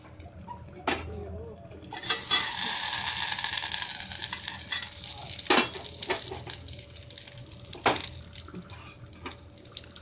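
Egg curry frying in a pan on low heat: a steady close sizzle and bubbling hiss, broken by a few sharp clatters of a utensil against the pan.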